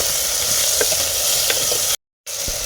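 Chopped tomatoes sizzle steadily in oil in a clay pot for a turkey berry kuzhambu, loud and close, with a few soft stirring scrapes.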